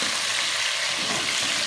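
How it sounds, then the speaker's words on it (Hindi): Garlic frying in a pan for a chicken and cauliflower dish, a steady close hiss and crackle that holds evenly throughout, with a brief louder scrape right at the end. "अब मैंने इसमें लहसुन डाल दिया है, ये इसको हमने फ्राई कर लेना अच्छे तरह से।"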